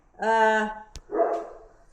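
A Great Pyrenees gives two loud, close, deep barks separated by a short pause, with a sharp click between them, in a quiet setting.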